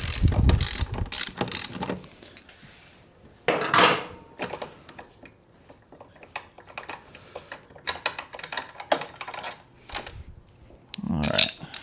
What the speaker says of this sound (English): see about getting a Torx bit on the back of that to remove it